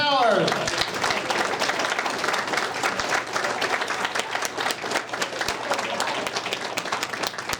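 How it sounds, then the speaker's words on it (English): An audience at a fan festival Q&A for a guitar band applauds a guest, steady dense clapping throughout at a moderate, even level. "So let's just give a round of applause to Dave Towers."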